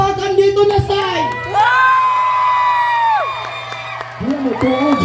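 A crowd at a live show at a food and music expo shouts and cheers in loud bursts, with long drawn-out whoops and yells rising and falling close by and little clapping.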